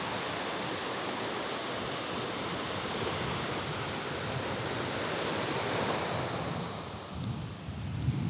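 Surf washes continuously onto a small beach, a broad steady roar of breaking waves mixed with wind buffeting the microphone, with no voices.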